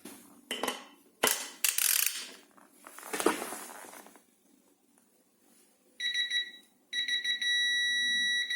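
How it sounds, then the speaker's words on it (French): Screws on a BMW 1000XR brake disc being snugged down with a ratchet: a few sharp clicking bursts near the start and a short rasp, then two long steady electronic tones later on. "J'ai serré mes vis au contact."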